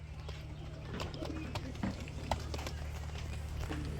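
Rasgolla and beauty pigeons coo softly at a bird sale, the faint coos mixed with scattered calls and rustling under a low background hum.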